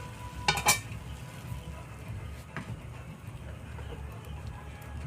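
Mughlai paratha stuffed with egg fries in oil in a pan, a soft, steady close sizzle running throughout, with a couple of sharp metallic utensil clinks near the start.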